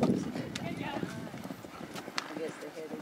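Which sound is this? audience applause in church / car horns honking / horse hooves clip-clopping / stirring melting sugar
horse hooves clip-clopping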